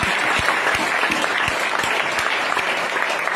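Audience clapping for a speaker honoured as a guru at a gathering in Bihar, a dense, steady burst of applause filling the space, with sharp individual claps standing out from the wash.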